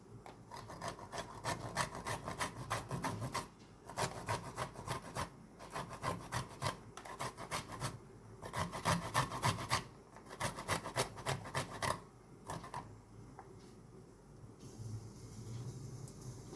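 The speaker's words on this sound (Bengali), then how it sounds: "এখানে নিয়েছি এক টুকরো আদা এটা আমি গ্রেট করে নিচ্ছি" A piece of fresh ginger is grated by hand while making an egg tarka, giving a steady run of close rasping, rubbing strokes in repeated bursts with brief pauses between them.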